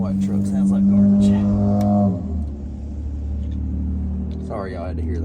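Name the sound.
white pickup truck engine running rough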